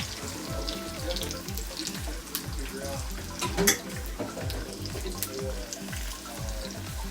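Beaten egg poured into hot oil in a pan for low-carb pad thai, crackling and sizzling with repeated rhythmic scraping or stirring strokes and a few louder splashy bursts, close and steady.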